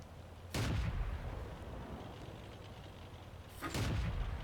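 Artillery guns fire in World of Tanks, two heavy booming shots about three seconds apart, each a loud blast that fades into a low rumbling tail.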